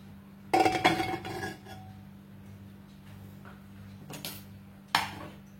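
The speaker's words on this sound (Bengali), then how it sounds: "এবার কুকারের ঢাকনাটা খুলব।" The metal lid of a pressure cooker holding an eggless mango semolina cake comes off with a close, sharp metallic clatter and clink, followed by quieter knocks and two further brief clanks against a low steady hum.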